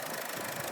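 A 2004 Infiniti G35 RWD engine idles, a steady low hum and rumble heard up close in a brief stretch.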